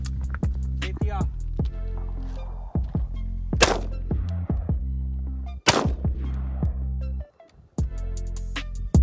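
AR-15 rifle shots ring out during practice shooting, a series of sharp loud cracks spaced irregularly over several seconds, close by with echoing tails and a few quieter pops in between, voices faintly present.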